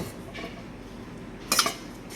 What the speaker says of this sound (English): we're just gonna slowly rake it in the sauce